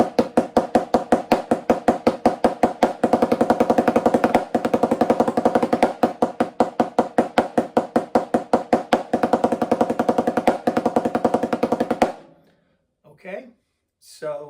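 A snare drum played as a 15-stroke roll rudiment exercise: long runs of rapid, even, close strokes repeating steadily for about twelve seconds, then stopping into near silence.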